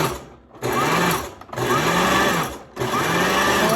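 A kitchen mixer pulses flour, eggs and salt together for pasta dough. The close, high whirring motor runs in three bursts, with brief quiet gaps where it is switched off and on.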